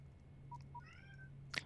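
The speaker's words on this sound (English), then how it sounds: "My cat is yelling at me" A pet cat lets out a couple of short chirps, then a drawn-out meow, faint and close over a steady low hum.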